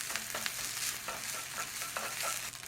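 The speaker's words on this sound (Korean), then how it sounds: "채소와 내장은 미리 볶아 놓았으니까 밥을 넣고 볶아줍니다" Cooked rice being stir-fried with red crab and pre-cooked vegetables and innards in a hot pan, a dense sizzle broken by rhythmic scraping strokes of a spatula, loud and close.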